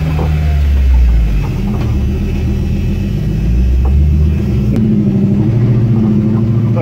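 A Jeep Grand Cherokee WJ with a 4.7 V8 drives along at an off-road meet, its loud, close engine rumbling steadily with mild swells in revs and a brief knock partway through.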